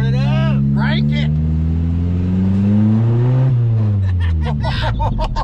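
A 1979 Chevy LUV pickup engine, just after an ignition timing fix, revs hard, climbing and falling in pitch. It is loud, close and continuous throughout.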